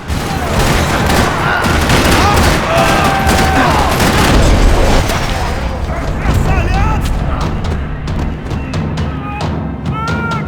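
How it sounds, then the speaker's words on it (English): Loud, constant gunfire in Max Payne 3 crackles and booms, with rapid shots and explosions layered into a dense, chaotic battle din in a parking lot. "Another parking lot rattling with gunfire."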